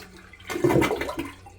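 A toilet flushes during a plumbing and electrical job, a single loud rushing surge of water that swells up and then drains away, heard close with no talking.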